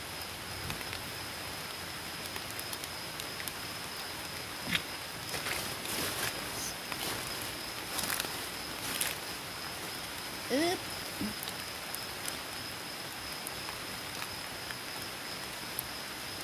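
Steady rain falls over a rural field during mushroom digging, a faint even hiss with occasional louder drops and rustles, no voices clear.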